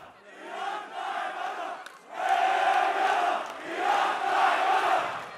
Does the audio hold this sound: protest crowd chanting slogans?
yes